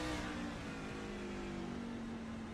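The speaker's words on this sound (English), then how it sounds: "Andrew, again, you can hear him just completely off of that throttle getting up that hill." A racing truck engine in the Racers Elite Truck Series at Lime Rock Park, off the throttle while climbing a hill, a steady mid-pitched drone that slowly drops in pitch, fairly faint, with no voices.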